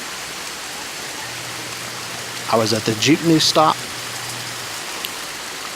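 Steady rain hisses evenly at a jeepney stop, with a low engine hum underneath while a person speaks briefly over the downpour.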